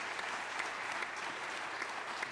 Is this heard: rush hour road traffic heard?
no